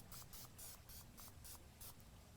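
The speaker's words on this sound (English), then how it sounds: "So we can spray this." Cooking spray spritzed onto a hot grill in a rapid series of about seven short hissing bursts, faint and close, over a low background rumble.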